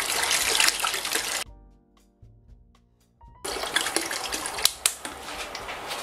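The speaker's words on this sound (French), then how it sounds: "3 litres d'eau." Three litres of water pour into a pot for broth, a rushing splashing stream near the mic, stopping for a quiet pause with faint clinks before pouring again loudly.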